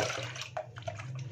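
Milk poured into small bowls for homemade yogurt, a steady liquid splash and trickle running continuously at close range with a few brighter plops.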